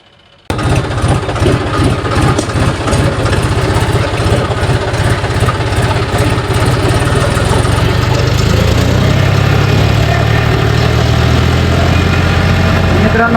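Tractor engines keep running at night as two tractors come down, a loud steady diesel rumble and idle with rhythmic vibration throughout, rising slightly and thickening toward the end.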